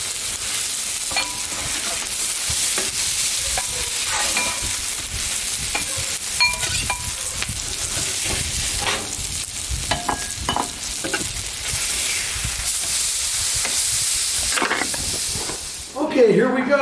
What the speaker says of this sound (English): This is a healthy griddle stir fry.